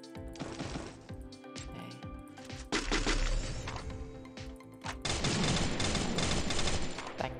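A FAMAS rifle in the Free Fire video game fires rapid bursts of sharp, cracking shots in quick clusters, growing louder and denser toward the end, with no voices over the gunfire.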